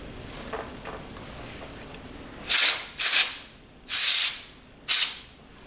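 Compressed air from a can blasts into a computer during cleaning, sprayed onto the connectors in four sharp, loud hissing bursts of about half a second to a second each, separated by brief pauses, close to the listener.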